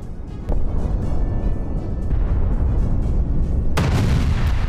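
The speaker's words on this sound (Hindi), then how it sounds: "दक्षिणी लेबनान में इजरायल का भीषण हमला।" Explosions from an Israeli strike on a Hezbollah position in southern Lebanon: a sudden loud roaring blast sets off a sustained rumble, then a second sharp boom near the end.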